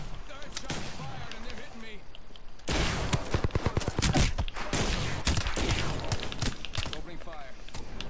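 Rapid gunfire crackles in Apex Legends, with scattered shots at first and then a dense, loud volley of repeated bursts, while a player talks over the shooting.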